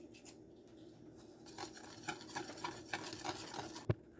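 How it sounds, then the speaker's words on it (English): Sugar being whisked into mug cake batter for a microwave chocolate chip mug cake: soft, quiet scraping and tapping strokes in an irregular rhythm, ending with one sharper clink against the mug. "Next we will whisk it."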